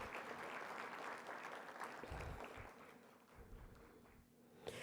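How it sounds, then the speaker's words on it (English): An audience at a plenary session of the 2024 HBCU-UP PI-PD conference gives a round of applause for the rooms, AV and tech staff, steady clapping that fades gradually over a few seconds. "just give them a round of applause"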